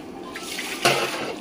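Water is poured into a large cooking pot for a 30 kg chicken dish at a Konkan village feast, a brief splashing gush that swells sharply near the end and runs on steadily, close by, with no talk.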